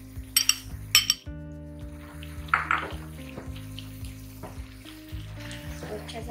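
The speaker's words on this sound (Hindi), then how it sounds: "फ्राई हो रही है देखो" Green chilies frying in hot oil in a pan for a Chinese-style mixed vegetable dish, with a steady sizzle, a few metallic clinks of a utensil at the start and a low background hum.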